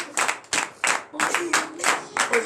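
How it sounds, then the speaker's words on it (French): A small church congregation claps in several quick bursts during morning prayer, close by, with a hum of voices underneath. "Donnez l'acclamation à la Seigneur Jésus."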